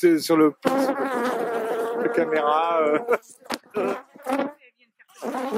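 Honey bees buzz around a beekeeper during a May honey harvest, a steady insect drone running beneath a man's close, continuous talking.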